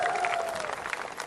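Brief burst of audience clapping at a film awards event in Mumbai, steady and fairly loud throughout with a thin tone ringing under it.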